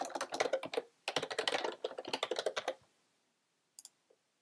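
Rapid bursts of typing on a computer keyboard while a teacher's username is entered, dense clattering in two runs followed by quiet and a couple of isolated clicks near the end, with no talking.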